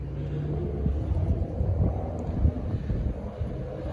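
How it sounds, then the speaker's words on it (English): A loud Subaru car passing along a road outside, heard as a low rumbling drive-by with wind buffeting the microphone, fairly muffled and steady over a few seconds. "There's a really loud Subaru coming down the road"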